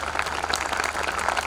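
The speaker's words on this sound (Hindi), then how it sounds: "इसकी सूचना आप सब तालियों के माध्यम से यहाँ तक पहुँचा दें" Listeners at a Hindi poetry recital for a bank's silver jubilee clap together, a short, even patter of many hands at moderate volume with a low steady hum beneath, no speech over it.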